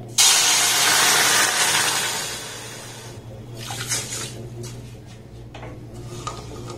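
Water pours into a pan holding sugar for a syrup, a broad rushing splash at the start that tapers off, followed by quieter clinks and faint movement against a steady low hum.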